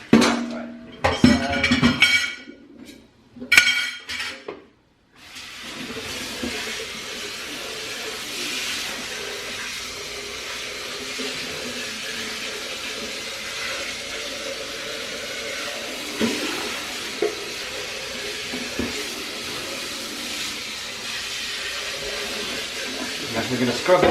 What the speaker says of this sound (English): So I need to rinse out this blender.